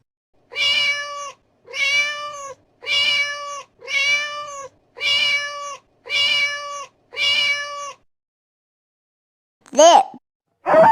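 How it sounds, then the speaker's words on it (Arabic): A cat meowing seven times in a steady rhythm, each meow long, close and clear, followed by a pause and then two shorter, higher meows. "قطة،"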